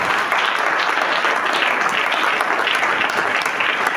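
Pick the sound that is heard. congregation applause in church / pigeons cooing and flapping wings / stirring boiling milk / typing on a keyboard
congregation applause in church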